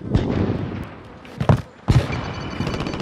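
A sniper rifle shot in the video game Warzone, heard as a few loud sharp cracks with booming tails over constant in-game noise, with a quieter burst of firing near the end.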